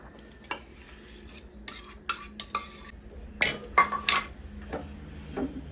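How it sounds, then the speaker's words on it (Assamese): Milk cream tipped into a clay pan over a lit gas burner for making ghee, heard as soft scrapes, taps and a light sizzle with sharper spoon clinks against the pan partway through. "এতিয়া গাখীৰৰ সৰখিনি ইয়াত বগৰাই দিওঁ"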